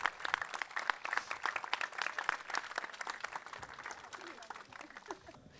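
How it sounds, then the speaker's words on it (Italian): Steady applause from a crowd at an awards ceremony, dense clapping that continues throughout and fades slightly toward the end, with voices faintly mixed in. "complimenti grande applauso"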